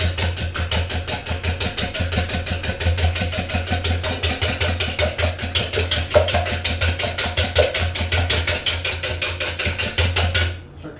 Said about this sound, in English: Whisk it for 30 seconds, maybe 20 seconds.